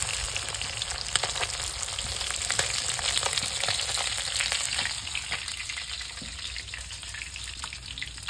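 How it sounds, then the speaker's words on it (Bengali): Tilapia fish frying in oil in a pan, a steady dense sizzle with crackling pops that runs unbroken through the whole stretch, fairly close and with no talking over it. "হ্যাঁ তেলাপিয়া মাছ তো সব। হ্যাঁ ভাজা হয়ে গেছে এখন।"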